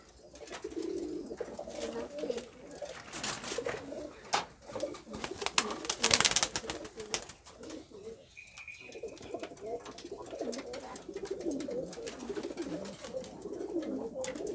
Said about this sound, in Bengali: এটা অনেক বড় কবুতর।